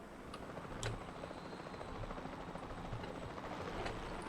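Steady helicopter rotor drone in the video game Jurassic World Evolution 2, a constant low hum with a couple of faint ticks, no talking.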